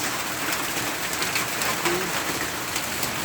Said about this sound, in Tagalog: Malakas talaga ng ulan yan guys.